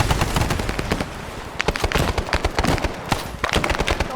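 Heavy gunfire in a Vietnam War video game battle during a helicopter crew rescue, dense rapid machine-gun bursts and scattered shots crackling continuously, loud and close, with no talk over it.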